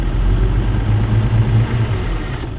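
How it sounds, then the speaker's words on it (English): A steady engine idles at about 800 RPM, a continuous low rumble with a constant hum, near and fairly loud, with no talk over it. "We're down to about 800 RPM."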